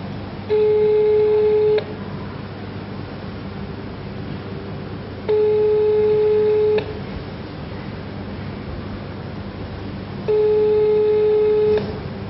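Ringback tones from a call placed to the SIM card inside a GSM remote-control timer switch: three evenly spaced tone bursts about 1.3 seconds long, separated by roughly 3.5-second gaps, over a steady low hum with no talking.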